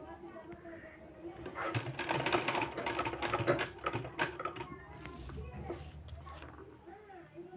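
A sewing machine stitches a decorative sleeve design in quick whirring bursts, loud and close, with a voice talking over parts of it.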